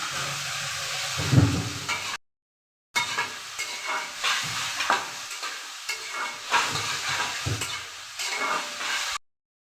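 Chopped tomatoes and six green chillies fry in hot oil for a dhaba-style dal tarka. Close, hissing sizzles come with stirring scrapes, broken by a brief silent gap, and no voices.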